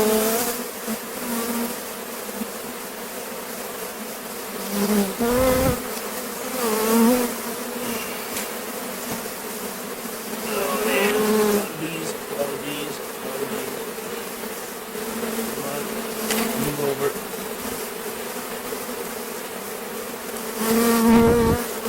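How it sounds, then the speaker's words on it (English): Honey bees buzz densely in an open hive colony during hive maintenance, a continuous close drone with swelling and fading pitches from individual bees passing near. "There's a lot of bees in this colony."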